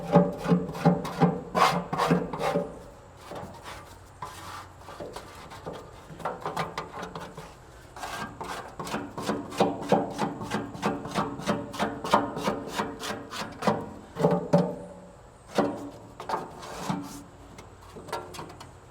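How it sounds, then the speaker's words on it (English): A scraper rasping and scraping debris inside a Weber pellet grill, pushing it toward the grease pan: repeated rough, irregular strokes of metal on grimy metal, close and steady throughout with brief pauses. "I'm going to go around and scrape all of this stuff down into that pan there"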